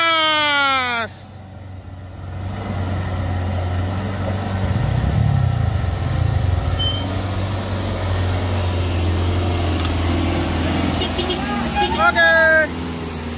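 Hino and Fuso trucks carrying roughly 12 tons labour uphill, producing a loud, continuous low engine drone that swells and strains throughout, with someone talking over it and tonal sweeps at the start and end.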